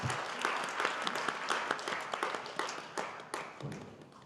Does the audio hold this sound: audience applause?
yes